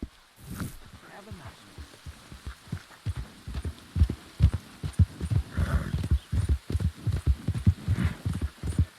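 Horse hooves clip-clopping in a video game, a steady rhythmic run of close hoof beats that grows busier and louder, with brief vocal sounds near the start.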